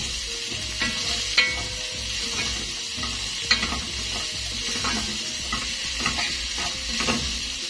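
Plenty of white and red onion fries in a pan, a soft steady sizzle broken by repeated scraping stirs and occasional light clicks of a utensil against the pan, close and moderately quiet.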